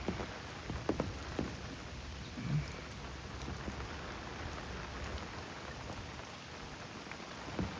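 Rain pours steadily with a constant hiss, with occasional heavier drops spattering nearby and a low rumble underneath.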